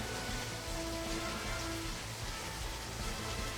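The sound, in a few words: rain in a video game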